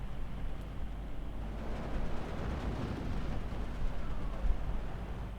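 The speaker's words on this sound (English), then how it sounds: "Nice bombing run." Rumbling explosions from an aerial bombing run in a World War II strategy game roll on continuously, a dense low boom and crackle with no clear gaps, loud and close.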